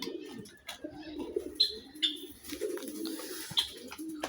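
Pigeons cooing near a keeper as he mixes multivitamin into their drinking water, soft low rolling coos repeating steadily, with a few faint higher chirps over them.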